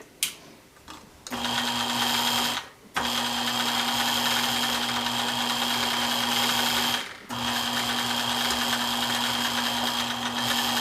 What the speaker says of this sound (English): I'm going to sew it in white thread so you can see what I'm doing, where the stitching should be